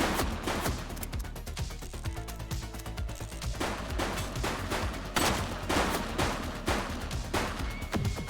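A police shootout in The Precinct brings rapid, sharp gunshots in irregular bursts, some very close and loud, crackling over a constant background din for several seconds.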